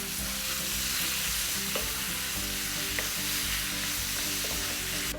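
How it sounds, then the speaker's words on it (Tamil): Onion and tomato fry and sizzle steadily in hot oil, with occasional stirring scrapes and clinks of a utensil against the pan, close and continuous throughout. "இப்போ இந்த ஆனியன் கொஞ்சம் லைட்டாக ஃப்ரை பண்ணி வரப்போ"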